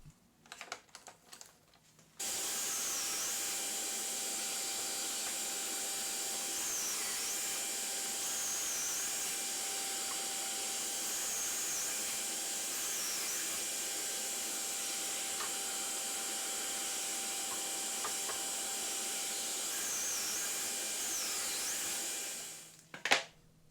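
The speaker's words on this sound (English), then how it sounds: "All of the other pieces will get pocket holes on each end of the piece." A power drill bores pocket holes into wood pieces with a steady, loud whirring drone that runs for about twenty seconds before stopping, with no talking.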